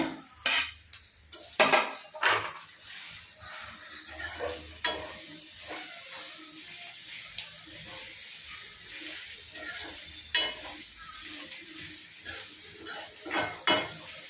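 Egg bhurji with coriander leaves being stirred and fried in a pan, a steady sizzle broken by irregular scraping and clinking of a spoon against the metal, with sharper knocks near the start and end; no talking.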